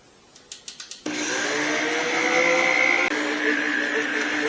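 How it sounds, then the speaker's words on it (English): Stand mixer whirring as it mixes pizza dough ingredients for a Chicago-style stuffed pizza, a few short clicks before the motor starts, then a steady loud motor hum that holds to the end. "next we're going to mix everything in the stand mixer"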